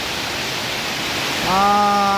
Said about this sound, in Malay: Masih lagi lebat hujan.